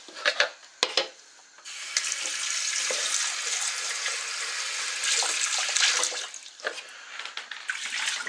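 Lamb curry simmers in a pan at home, giving a continuous hissing, bubbling sizzle with a few clicks and knocks at the start and some fluctuation toward the end.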